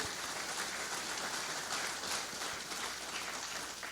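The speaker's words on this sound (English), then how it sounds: "Let's give Dennis a big round of applause" An audience at a closing session applauds steadily, a faint, even patter of many hands clapping from a distance with no voices over it.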